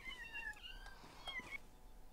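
Cats meow in the video game Garry's Mod, several short, tonal, rising and falling cries overlapping over a quiet background, faint and fairly distant, with a few soft clicks in between.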